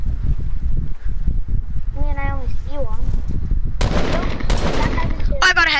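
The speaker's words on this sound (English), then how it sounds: "I'm getting shot at by them." Gunfire in Fortnite, rapid bursts of shots crackling near and far beneath a player's excited talking, with sharper clusters of fire toward the end.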